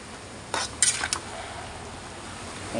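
A utensil stirs stir-fried noodles with greens in a pan, giving a few brief metallic scrapes and clinks over a faint steady sizzle.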